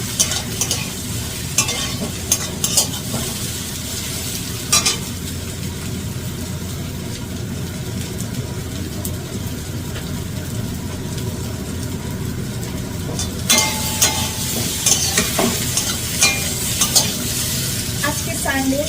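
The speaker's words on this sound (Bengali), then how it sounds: "তো ভালো করে সবজিগুলো ভালো করে একটু ভেজে নেবে" Vegetables frying in hot oil in a pan, with a steady, close sizzle and periodic scraping stirs throughout, with no talking.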